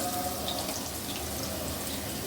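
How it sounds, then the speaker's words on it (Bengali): Washed rice poured into a biryani pot, a steady watery rush and splash throughout, fairly soft and without talking. "চাউল ধুয়ে রেখেছিলাম সেটা ঢেলে দিচ্ছি"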